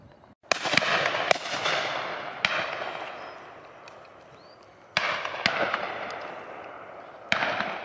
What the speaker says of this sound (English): A few shots going off up there